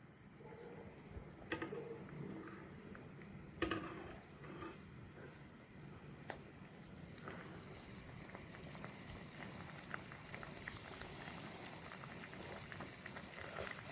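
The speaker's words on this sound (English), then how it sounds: "So now my soup has come to a boil and the seafood has cooked." Indian-style seafood soup in a pot at a boil, giving a soft, continuous bubbling hiss with faint pops and a few louder clinks, quiet and close.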